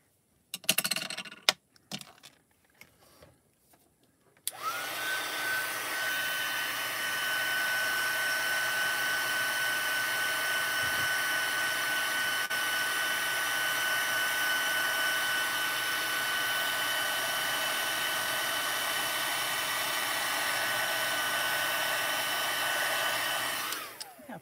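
A heat tool blows steadily and loudly for about twenty seconds, drying an ink background on paper, after a few brief clicks and taps at the start.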